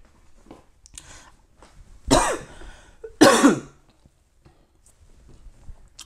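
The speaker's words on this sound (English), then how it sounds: "Sorry to cough again." A man on a sports podcast coughs twice, two sharp, close bursts about a second apart, with faint breathing and quiet room noise around them and no talk.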